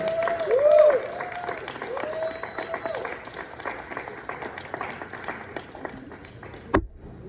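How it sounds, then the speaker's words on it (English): Audience at a comedy show clapping to welcome a comedian, with thin scattered applause, whistles and cheers near the start that fade over the clip, a sharp knock near the end. "Start clapping. Give it up."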